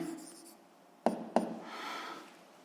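A physics exercise solution is written down by hand: a soft scratching pen stroke with two sharp taps close together, quiet and close-up with no talk.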